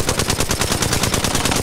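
Rapid automatic gunfire from the Apex Legends video game, a loud continuous burst of closely spaced shots running throughout with no talk.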